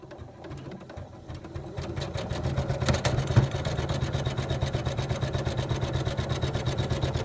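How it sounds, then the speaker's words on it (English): Home sewing machine running an outline stitch in blue thread, a steady rapid mechanical whirring with regular needle pulses that builds in the first seconds and then holds at an even, close level. "So we will stitch the outline stitch in blue."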